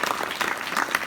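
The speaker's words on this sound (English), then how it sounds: "let's give him a round of applause as well" Audience applause in an education-themed talk, a brief burst of steady, moderately loud clapping from a crowd.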